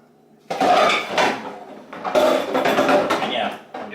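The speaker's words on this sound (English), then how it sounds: "And yeah, I'm doing dishes as I do it." Dishes, pots and pans clatter and clink in bursts at a kitchen sink while homemade cranberry gummy candy is being made, with a voice talking over the washing.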